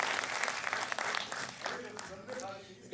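Brief applause breaks out at a humorous Urdu poetry mushaira, a quick patter of clapping from the audience that mixes with a voice talking as it dies away.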